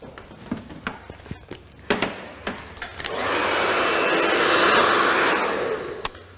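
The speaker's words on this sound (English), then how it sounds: "It's always important as well that you get a strong blow dryer that's got some good wattage." A 3200-watt blow dryer drying medium-length hair for volume: a steady, loud airy roar starts about halfway through and runs continuously, preceded by scattered clicks and handling taps, with no talk.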